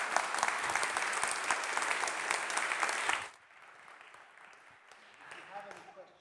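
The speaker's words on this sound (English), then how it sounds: "You can clap if you wish." Audience applause at a conference presentation on quantum computing for market understanding, a dense burst of clapping for about three seconds that stops abruptly, leaving quiet room noise and faint murmuring.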